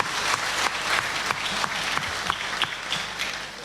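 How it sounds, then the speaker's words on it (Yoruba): Applause at a meeting between a state governor and transport union members, steady crowd clapping with sharp individual claps standing out, fairly close and continuous. "Àtẹ́wọ́ yẹn dà."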